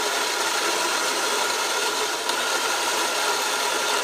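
A steady, loud mechanical whir of a coffee grinder running continuously, with no pauses or talk.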